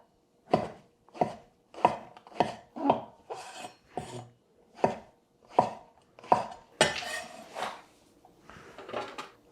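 A knife chops vegetables into cubes on a cutting board for tomato-sauce fried rice, with about a dozen crisp, close strokes in an uneven rhythm, some with a scraping follow-through.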